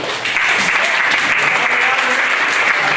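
A hypnotist show crowd at an after-prom event breaks into steady applause, a thick, even wash of many hands clapping close and loud for the whole stretch.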